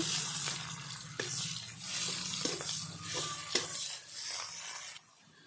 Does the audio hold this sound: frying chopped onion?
yes